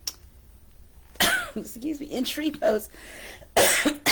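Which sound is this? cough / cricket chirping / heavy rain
cough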